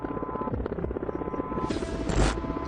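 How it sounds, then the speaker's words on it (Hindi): An Apache attack helicopter's rotor beats in a fast, rhythmic chop over a droning engine hum, with a sharp rushing burst swelling near the end. "भारत का चेतक यानी अपाचे अटैक हेलीकॉप्टर भी दुश्मनों पर आग बरसाने लगा"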